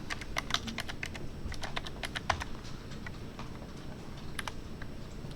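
Quick bursts of keystrokes on a computer keyboard as C# code is typed for a Windows Forms application, crisp and close over a quiet room hum, with short pauses between runs.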